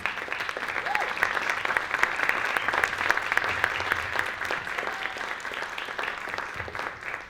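An audience at a curatorial panel claps steadily and warmly for several seconds, dense applause filling the room at moderate volume before thinning slightly at the end.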